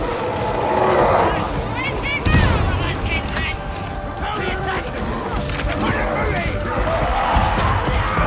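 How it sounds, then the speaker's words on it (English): A grenade blast amid gunfire in Warhammer Darktide, loud bursts and rattling shots over a crowded horde fight, with players talking through the chaos. "Grenade out!"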